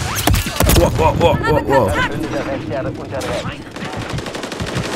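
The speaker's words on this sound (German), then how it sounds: "Von wo schießen die?" Gunfire in the video game Modern Warfare 3, with bursts of shots and sharp impacts mixed with game effects while players talk excitedly over the action.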